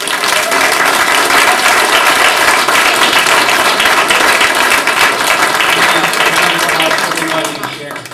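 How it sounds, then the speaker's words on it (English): A crowd applauds steadily for several seconds, a dense wash of clapping that fades slightly at the end. "Can we get a round of applause for our panelists?"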